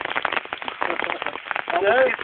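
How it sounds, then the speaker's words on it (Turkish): Heavy rain falls in a Turkish village in Oltu, a dense steady patter on surfaces heard under people talking nearby. "Yağmur bastırdı."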